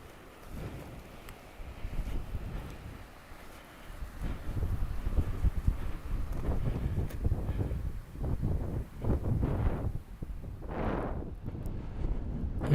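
Strong wind buffets a paraglider flying high over the coast of the Bay of Saint-Brieuc near Tournemine, a loud continuous rushing gust noise that swells and fades, alone and close to the microphone.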